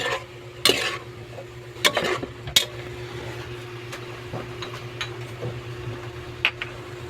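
A spoon stirs a pan of chopsuey-style sopas with two sliced hotdogs, giving scattered scraping clicks over a faint steady hum in the kitchen.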